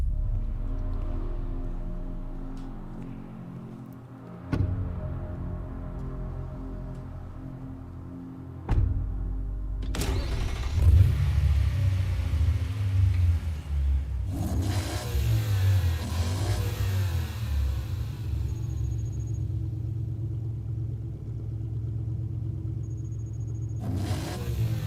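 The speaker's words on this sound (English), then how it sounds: "I don't know if they're still doing that artificial exhaust note." Lexus V8 engine and exhaust revving, a deep low rumble that builds and surges in bursts, with sharp throttle blips and a rising roar in the latter half, loud and close throughout.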